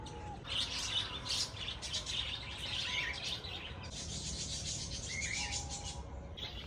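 Birds chirp and sing in bursts around a resort near Nashik, fairly faint and steady over a soft background hum, with no voices.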